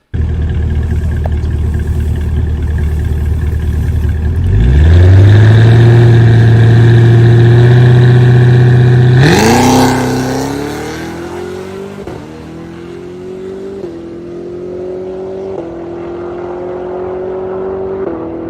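Cadillac CT5-V Blackwing on a drag racing pass: a steady engine drone builds, then surges loudly at launch and climbs through a series of rising gear pulls as the transmission shifts, tapering off as the car pulls away.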